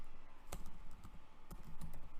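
Fingers type code into Power Query on a computer keyboard, producing soft, quick key clicks in small irregular bursts with a few sharper taps, close up and with no talking.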